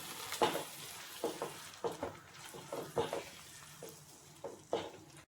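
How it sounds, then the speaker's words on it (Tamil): Ground tomato is stirred into mutton liver masala in a pan, heard as a soft, rhythmic run of wet scraping and stirring strokes, roughly one every half second, over a faint background sizzle. "நல்லா மிக்ஸ் பண்ணி கொடுத்துடலாம்."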